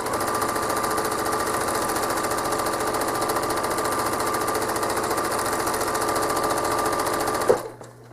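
A home sewing machine stitches quilted feather designs, a loud, close, steady rapid mechanical hum and chatter running for several seconds before stopping abruptly near the end, with no talking.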